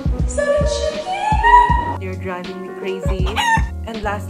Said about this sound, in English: I'm literally surrounded by chickens.